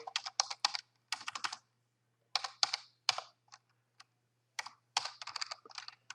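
Quick bursts of typing on a computer keyboard, close and crisp, come in several clusters separated by short pauses, with no voices.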